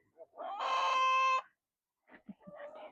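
A hen on a farm gives a loud, drawn-out squawking call, then a few short clucks follow after a pause, close to the listener.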